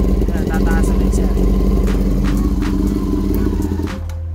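A Yamaha R6 sport motorcycle engine runs steadily up close with a dense low mechanical drone, being worked on during wiring harness and charging fault diagnosis, with light clatter throughout.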